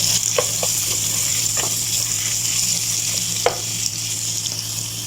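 Carrots stirred through sizzling oil in a pan for a simple lunch, a steady fry with a few soft scraping strokes of the spatula and a low background hum, no talking.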